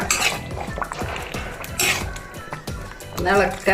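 Chicken curry with garam masala is stirred in a pot, a spoon clanking and scraping against the metal in irregular knocks, while a person talks over it.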